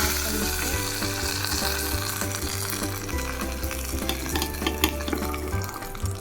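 Curry leaves and mustard seeds fry in oil as a tempering for coconut chutney, giving a loud, close, continuous sizzle with crackles and pops over a low steady hum.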